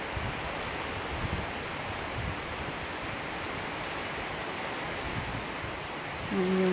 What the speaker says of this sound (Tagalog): Pero ngayon malakas ang hangin.